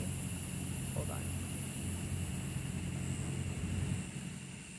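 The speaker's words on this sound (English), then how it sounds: "Now there's a car coming behind me." A car comes up from behind on a rocky dirt road, a steady broadband rumble of engine and tyres that holds fairly loud throughout and eases slightly near the end.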